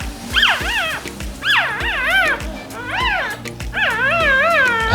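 A newborn mini Bernedoodle puppy, F1b cross, lets out repeated high wavering yips and whimpers close up, in bursts over a low background of soft rustling.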